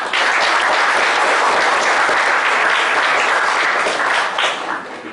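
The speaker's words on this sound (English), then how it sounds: "With a great round of applause" An audience at a Teachers Day celebration applauds to welcome a speaker, a dense, steady wash of many hands clapping for about five seconds before it begins to fade.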